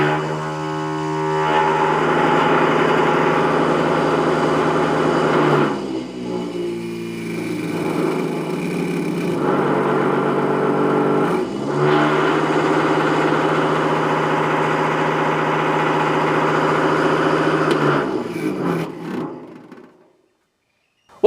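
A homemade battery-powered cotton candy machine motor whirs loudly and steadily, a strong mid-pitched buzzing drone that dips briefly twice, then runs on before winding down and stopping near the end.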